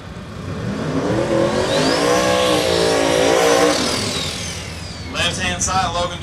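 A turbocharged small-block drag race car engine fires up and revs loudly at a drag strip, rising and falling in pitch, while an announcer talks over it and a faint crowd carries underneath.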